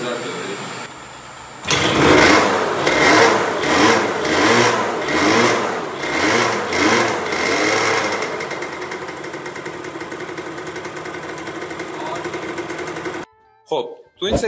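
A salvaged Japanese motorcycle engine starts up and runs with a rough, pulsing rhythm, loud and close, settling into a steadier idle before cutting off.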